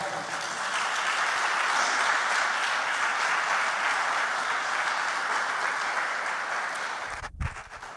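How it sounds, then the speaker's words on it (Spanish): A church congregation applauds during a sermon, a dense, even wash of clapping that carries on for about seven seconds before a brief thump and fade. "Den un aplauso al Señor."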